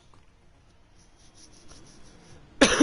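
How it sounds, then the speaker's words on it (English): A man with a cough coughs once, a close, harsh burst near the end that follows a quiet stretch of faint background noise, just before commentary on a MotoGP 21 online league race at the British Grand Prix. "Apologies if I keep coughing,"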